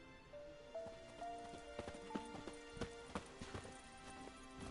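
Roach, Geralt's horse in The Witcher 3, galloping with a brisk rhythmic clip-clop of hooves over a faint ambient background, each hoof strike crisp and close.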